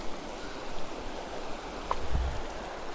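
Steady rushing of a mountain river flowing in the Carpathians, the Mizunka, a continuous broadband wash with no voices.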